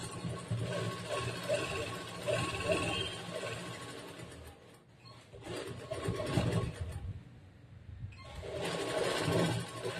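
Sewing machine stitching a blouse, running in steady bursts with short pauses between runs and a clear break near the middle, with speech faintly mixed in.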